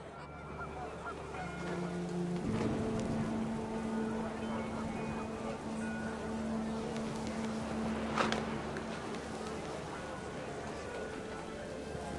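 Heavy rain in the video game What Remains of Edith Finch pours down as a steady, dense hiss throughout, with geese honking and voices mixed in over it.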